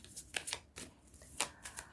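Tarot cards are shuffled and drawn in quick, close, crisp riffling bursts and soft slaps, spaced irregularly over two seconds, with no speech.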